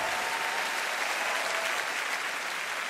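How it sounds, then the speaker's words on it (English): Studio audience applause on a TV dance competition show, a steady, dense wash of clapping held at even loudness with no voices over it. "That got an applause from the audience"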